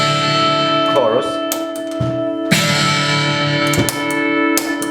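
Electric guitar through a chorus effect on a Kemper Profiling Amplifier, with sustained, shimmering chords and sharp pick attacks that are restruck several times, played loud and close.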